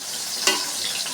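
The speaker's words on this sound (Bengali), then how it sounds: "মাছগুলো দিয়ে দেবো একটা করে।" Fish pieces frying in hot oil in a pan for Bengali fish korma, a steady close sizzle with one brief louder crackle as a piece goes in, no talk.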